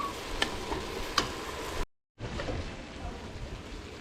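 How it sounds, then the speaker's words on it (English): Ground beef sautéing in a home kitchen pan, a soft continuous sizzle with a few sharp ticks of stirring, broken by a brief gap of silence before the frying hiss resumes. "next we're putting in the ground beef. But put kind of brown, saute it"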